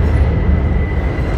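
A steady low rumble and hum of a Washington metro Red Line train bound for Shady Grove fills the station at close range, with no talking.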